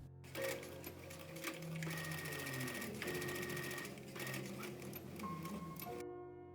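Sewing machine stitching the lining of a handmade winter coat, running steadily and close for about six seconds with a busy mechanical whir and brief pauses, then stopping.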